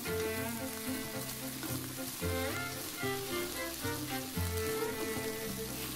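Cauliflower, pumpkin and carrot sizzle steadily in a little oil in a hot pan while being stir-fried, a continuous crackling fry with music playing underneath.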